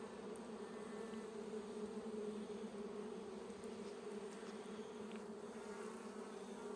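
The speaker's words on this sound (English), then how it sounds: "The bees are not happy. If they could sting me, they would." Honeybees swarm and buzz loudly around an open hive during a feeder extension check, a dense, steady drone held close and continuous throughout with no pauses.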